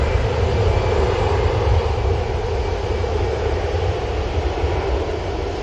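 A Hainan Airlines Airbus A330 airliner on landing approach, a steady, loud broadband jet roar and rumble holding evenly throughout with no voices.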